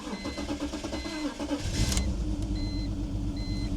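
A BMW engine cranks and catches, then settles into a loud, rough, uneven idle with a shaky rumble that fills the rest of the clip.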